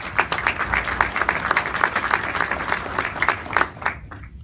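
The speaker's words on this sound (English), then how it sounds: "So give yourselves a round of applause." An audience at the Camden State of the City address claps steadily, dense rapid applause that stays loud throughout before tapering off at the very end.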